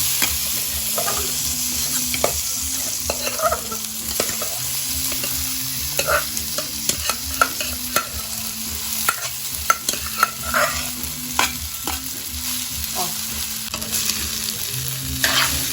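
Rice stir-fried in chicken oil in a pan, a steady close sizzle with rhythmic scraping and tapping of a spatula tossing the grains, no voices.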